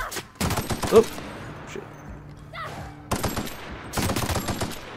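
Rapid bursts of automatic gunfire in the video game The Outer Worlds, two or three loud clusters of shots broken by brief pauses, with a man's short exclamations in between.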